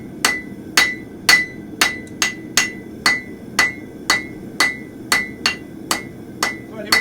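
A blacksmith's hammer strikes hot metal on an anvil while drawing it out with the ball of the hammer, a steady run of about thirteen ringing blows at a brisk, even pace with a faint room hum beneath.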